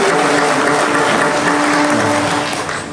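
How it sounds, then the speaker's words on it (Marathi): A kirtan audience in a village gathering claps loudly and steadily in a dense, close burst that fades slightly toward the end. "जोरदार टाळी वाजवा माझा जोरदार"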